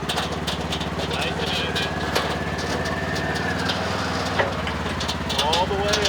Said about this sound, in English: I'm now going to ease the throttle and pull my way up